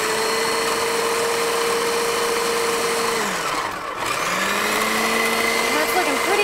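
A food processor pulses blue cheese hummus with olive oil, its steady motor whir running loud and close, then briefly dropping away before starting up again.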